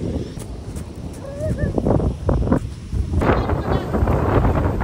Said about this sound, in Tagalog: Guys, ang lakas ng hangin.